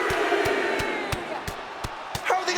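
A video game arena crowd roars continuously during a WWE 2K25 wrestling match, loud and steady, with a sharp clap or thump recurring about every third of a second over it.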